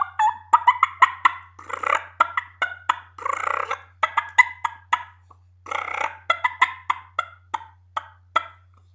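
Hand-operated turkey call mimicking two hens fighting, with raspy fighting purrs broken by sharp high cuts and putts in quick irregular bursts, close and fairly loud over a steady low hum.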